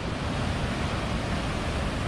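Ocean surf along a coastal Hawaiian trail fills the air with a steady, broad wash of noise, constant and even with no distinct breaks.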